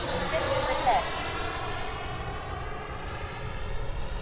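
A model airplane engine drones steadily overhead at an airfield, a sustained buzzing whine that holds fairly level as the plane flies past, with some talk nearby.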